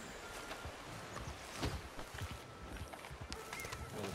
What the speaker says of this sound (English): Here's my fucking horse, man.